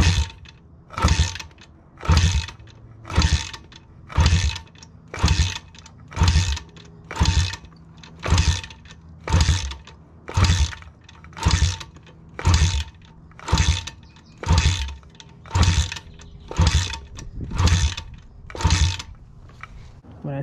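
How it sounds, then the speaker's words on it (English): A Piranha 140 pit bike engine being kick-started repeatedly for a compression test without firing: about sixteen evenly spaced mechanical kick strokes, each a sharp whirring burst, close and loud, in a steady rhythm roughly once per second. "You guys can hear how many kicks we do, and you can just watch the gauge as it goes up."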